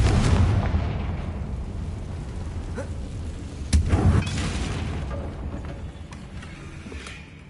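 Hogwarts Legacy's Confringo blasting spell goes off as a rumbling boom with a sharp burst near the middle, heavy low-end explosion noise decaying over several seconds with no speech.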